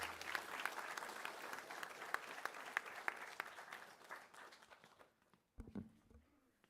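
Audience applause for speaker Elke Aulsebrook after an R U OK Day talk at a school, steady dense clapping that fades out near the end, followed by a brief low murmur.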